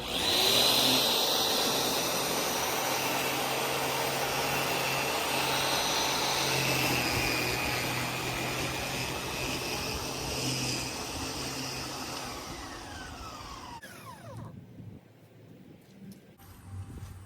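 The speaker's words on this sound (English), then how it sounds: "try this out again" Sun Joe 15-inch electric lawn dethatcher raking dead grass with its collection bag on, a steady motor drone with a rough raking rustle, moderately close, fading near the end.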